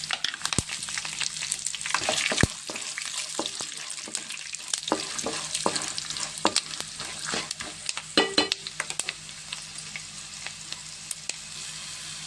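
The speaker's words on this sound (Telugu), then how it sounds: "నూనెలో మంచిగా ఫ్రై కావాలి ఇవన్నీ." Dried red chillies and tempering spices fry in hot oil for Telangana-style puli gora, a steady close sizzle broken by crackles, pops and the scrape and clank of stirring.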